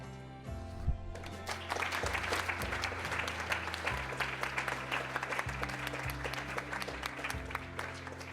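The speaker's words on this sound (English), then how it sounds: "let's give her another round of applause" An audience claps at an end-of-year recognition dinner, a steady round of applause over a low musical backdrop, fairly close and continuous throughout.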